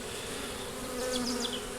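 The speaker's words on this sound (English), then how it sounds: "Look at those bees diving in there." Bees flying into a hive buzz in a steady close drone, with a few individual insects whining past more loudly for a moment.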